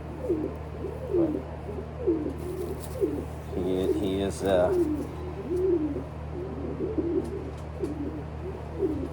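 A racing pigeon coos in repeated soft, throaty rolls close by, steady throughout, while someone talks over it.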